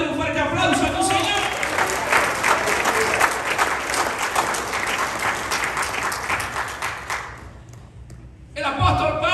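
Loud, sustained applause from a church congregation, dense clapping filling the space for about seven seconds before fading out, with a voice coming in at the end.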